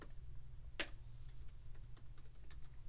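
Light keystrokes on a computer keyboard, a few scattered taps spread over a steady low hum, one louder click standing out near the start.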